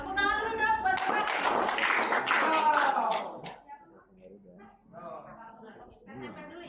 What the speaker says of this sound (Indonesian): Tepuk tangan dulu dong buat Bapak.